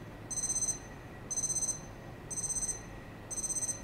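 Alarm on a men's wristwatch, one of Spinnaker, Epos, Casio G-SHOCK or Citizen, beeping in four evenly spaced bursts of rapid high-pitched pulses, close and clear against a quiet background.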